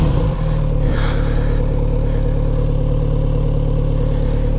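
A Kawasaki Z900RS motorcycle engine runs steadily and loudly up close as the bike rides off, a deep continuous drone with a short rev swell near the start.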